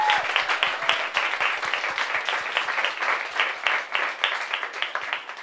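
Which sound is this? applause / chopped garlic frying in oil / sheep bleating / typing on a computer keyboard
applause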